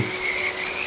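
Frogs croaking on a waterlogged village night in rural Bengal, a steady close chorus with a sustained trilling tone, heard alone for under a second.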